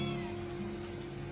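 Kittens meow together at morning feeding time inside an RV, a brief burst of overlapping, sustained cries up close.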